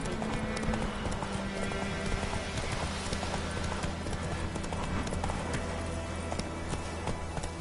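Roach, Geralt's horse in The Witcher 3, clatters along a road in a brisk, continuous run of close hoofbeats, loud over a dense layer of game ambience.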